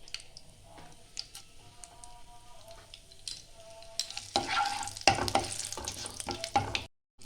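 Dry red chili, bay leaves and five-spice seeds hit hot oil in a pan, crackling and spitting in scattered bursts that grow louder and denser toward the end before cutting off abruptly.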